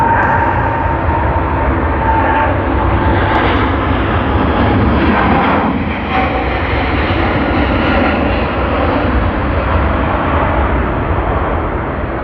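A United airliner departing Sydney Airport for San Francisco, its engines a steady broadband roar that holds loud and constant throughout, with no voices over it.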